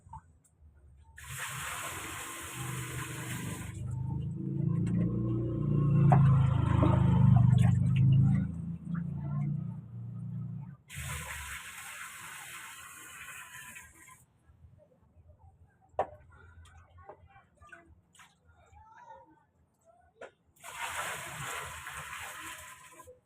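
Collected rainwater gushes and splashes in a steady hand pour for several seconds, then stops; faint handling noises and scattered clinks follow, with another short pour later.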